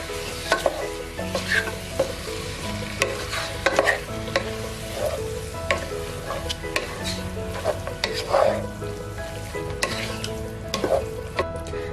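Chicken thoran stirred and fried in a pan, a continuous sizzle broken by repeated spatula scrapes and clinks in an uneven rhythm, close and fairly loud, no voices.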